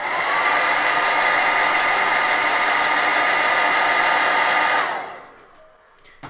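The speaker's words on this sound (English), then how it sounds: "Do it with a hairdryer." A hairdryer drying paint on a gold-painted miniature blows a loud, steady whirring roar for about five seconds, then is switched off and winds down into near silence.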